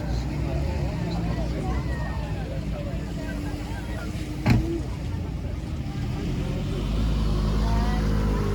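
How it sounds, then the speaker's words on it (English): Cars race around an airfield track at a supercar driving day, engines droning at a distance beneath crowd babble, with one sharp louder pass midway and the engine roar swelling near the end. "Just seeing some of the cars flying around"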